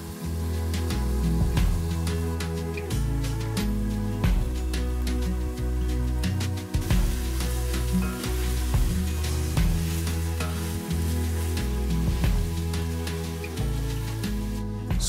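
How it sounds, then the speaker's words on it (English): Vegetables sauté in a pot with salt and pepper for a coconut butternut squash soup, a continuous soft sizzle broken by frequent clicks and knocks of a spoon against the pot. "Saute for about 5 to 8 minutes."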